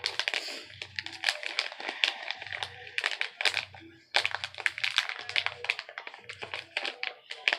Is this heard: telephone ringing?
no